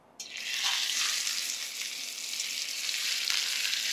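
A ribeye steak sears in smoking-hot bacon fat, a loud, steady broadband sizzle that jumps up right after a sharp start and holds strong throughout with no voices.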